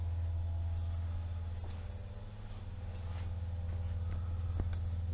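A Pentair SuperFlo variable-speed pool pump with dual suction lines runs at 1000 RPM, giving off a quiet, steady low hum with faint mechanical ticks on top and no voices.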